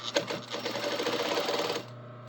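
A sewing machine stitches down a belt loop in a close, steady mechanical run of rapid needle strokes for about two seconds, then stops, leaving a low hum.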